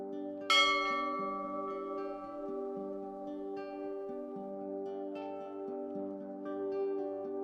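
A single bell struck once near the start, its bright tone ringing out and slowly decaying, over a steady sustained musical drone with a gently shifting low line.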